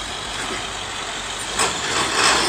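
A postal truck idles on a slippery, storm-wet Philadelphia street, its engine rumbling steadily and fairly loud, with a brief rise in noise toward the end.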